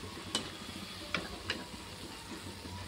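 Mysore bonda batter frying in oil over a low flame, a steady soft sizzle throughout with three brief sharper crackles or taps, quiet and fairly distant.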